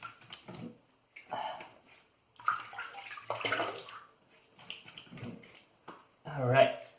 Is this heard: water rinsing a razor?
yes